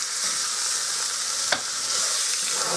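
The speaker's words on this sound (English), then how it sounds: "Now that one's searing." Pork chop searing in a pan, a steady close hiss of sizzling fat throughout with one brief sharp crackle midway.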